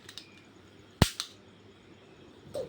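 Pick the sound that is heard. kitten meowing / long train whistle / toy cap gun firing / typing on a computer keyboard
toy cap gun firing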